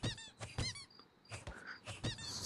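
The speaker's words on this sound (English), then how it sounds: "let's just kill him with a rubber chicken." A rubber chicken squeaks repeatedly in quick, high-pitched squawks, several bursts in a row over a couple of seconds, in the video game Rules of Survival.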